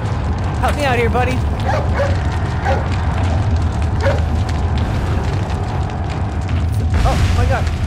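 Dog barking in the video game Resident Evil 4, a few sharp yelping barks over a busy, constant game soundscape with music and effects.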